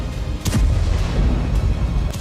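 Heavy, muffled blasts from rockets striking Tel Aviv boom out over a constant low rumble, with a few sharp bursts spaced across the stretch, loud and close-sounding, no voices.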